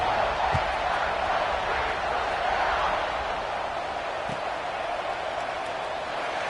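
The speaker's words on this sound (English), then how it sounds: "this crowd is buzzing after that last score" A football stadium crowd at an Oregon game keeps up a steady, broad murmur and roar, a dense wash of many voices holding at even loudness throughout.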